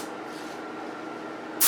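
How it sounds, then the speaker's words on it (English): A brief, soft steady hiss of spray paint on a wall mural runs for over a second, then a sudden louder burst of spray at the end. "And I may spray right over all this."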